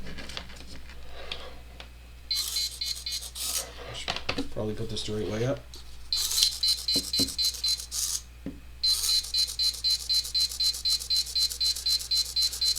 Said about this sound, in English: the servo motor is jostling back and forth between that 160 and 140 degrees, and the buzzer is sounding